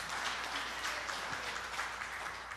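A church congregation applauds during a sermon, a continuous, even patter of many hands clapping, moderately distant and fairly quiet throughout.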